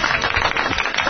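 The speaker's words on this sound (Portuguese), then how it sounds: "Vejo os aplausos." A studio audience on a live radio-TV comedy show claps and applauses in a steady, dense burst, loud and close, with no talk over it.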